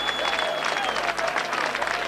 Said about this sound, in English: you can hear the applause from the Leeds section of the crowd